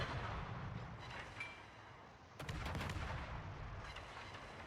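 Naval video game gunfire from a torpedo boat's guns, a dense continuous rumble of booming shots with a sharper cluster of blasts midway, loud and steady throughout.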